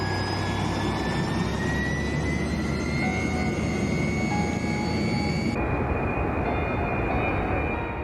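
Jet engines of a Pulkovo Airlines airliner roar steadily during takeoff at Anapa's Vityazevo airport, a loud, continuous wash of engine noise with whining tones that thins toward the end.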